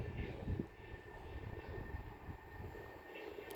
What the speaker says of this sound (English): pass through now is going to be a pair of Southeastern Class 465s running from London Charing Cross to Tunbridge Wells